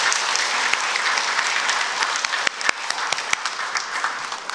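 Steady applause from a church congregation during a Sunday worship service, dense and sustained clapping that fills the space with a few sharper claps standing out near the end.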